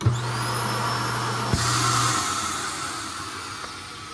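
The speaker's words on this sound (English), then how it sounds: "You got your built-in vacuums, which these are so cool." A built-in vacuum in a Forest River R-Pod 205 camper runs with a steady whirring roar and a high whine, close and loud, with a brief thump partway through and no talking.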